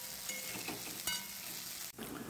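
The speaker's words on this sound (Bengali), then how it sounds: "কড়াই যে তেল আছে তার মধ্যে লম্বা করে কেটে রাখা আলুর টুকরোগুলো দিয়ে দিলাম" Long-cut potato strips fry in oil left in a wok after frying fish, giving a quiet, even sizzle with a faint clatter of stirring partway through.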